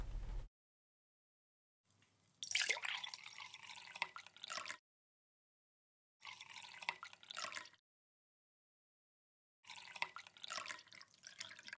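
Water is poured from a cup into a row of glasses for a walking-water science experiment, three separate bursts of splashing, trickling pour, close and fairly loud, with silent gaps between each glass.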